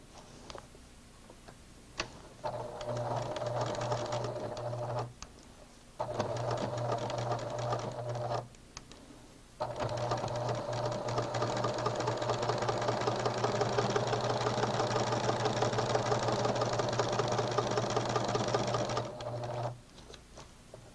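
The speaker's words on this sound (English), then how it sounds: "when sewing darts, make sure to sew from the nip to the point" A sewing machine stitches a dart in fabric in three bursts of steady, close mechanical whirring separated by short pauses. The final run is the longest.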